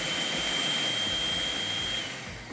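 Blender whirring at high speed through a watermelon coconut gazpacho mix, a loud steady motor roar with a whine that holds and then drops off near the end; no talking.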